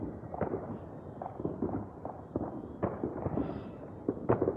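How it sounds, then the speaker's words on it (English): New Year fireworks bursting at a distance over an outdoor area with several displays, a steady crackle and rumble punctuated by sharper booms every second or so. "It's got their fireworks."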